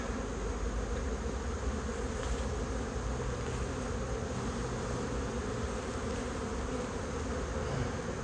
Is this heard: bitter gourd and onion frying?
no